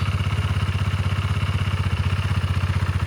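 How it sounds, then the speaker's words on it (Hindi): A 2018 BS4 KTM RC 390 with an Akrapovic-designed exhaust idles up close, its single-cylinder note a steady, even stream of deep rhythmic thumps with no talk over it. "अब बात करते हैं इसके एग्जॉस्ट नोट की"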